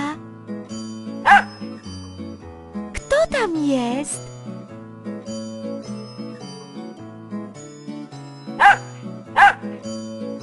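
A dog barks in short sharp bursts, first once, then twice more near the end, inside a children's cartoon about vehicles, with music and a child-friendly voice speaking around the barks.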